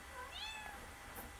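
A cat gives one short, rising meow, close and clear against quiet background noise.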